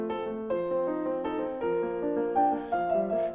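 Modern piano playing a short passage of slurred notes that are cut short, quiet and close, each tone stopping abruptly rather than ringing on, with no voices.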